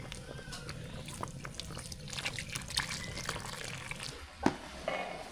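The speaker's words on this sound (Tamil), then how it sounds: "லாஸ்ட்டாக புளி தண்ணி சேர்த்துக்கலாம்" Liquid splashes and drips as tamarind water is poured into a pot of white sambar with ridge gourd, with scattered clinks and a sharper splash near the end.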